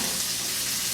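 A whole chopped fennel bulb hitting a hot pan, a steady close sizzle and crackle that fills the brief moment without pause.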